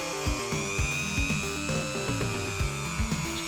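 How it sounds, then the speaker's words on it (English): A cheap Dremel-style rotary tool strips paint from the crevices of a 1969 Dodge Charger 500 model car body, producing a close, steady high-pitched whine whose pitch dips and rises as it bites the surface. "Using my fake Dremel to remove some of the paint in the crevices and just polishing up the body."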